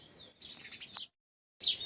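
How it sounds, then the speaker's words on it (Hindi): Songbirds chirp and tweet in the early morning, a near, clear run of calls, then a brief silence before another bright burst. "रोज सुबह 4 बजे से चिड़ियों की मधुर चहचहाट की ध्वनि सुनाई देने लगती है"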